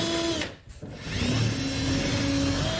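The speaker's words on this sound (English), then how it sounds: "Now he's just drilling another hole." A power drill boring a hole during installation of a front splitter on a Kia Stinger, running steadily and loud with a brief dip and pause partway through, then resuming its continuous whine.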